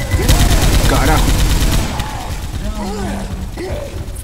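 Rapid bursts of gunfire aimed at a Tank in Left 4 Dead 2, a loud dense fusillade for the first two seconds, then sparser shots and game noise, with excited players talking over it.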